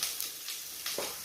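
Carrot frying in a pan for vegetable noodles, a soft steady sizzle with faint crackles and light stirring scrapes, close and continuous with no talk.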